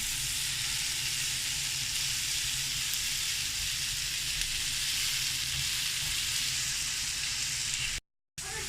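Onion gravy sizzles steadily in a frying pan while being cooked for a cheese omelette, a dense continuous crackle and hiss at close range with no talking, cutting out briefly near the end.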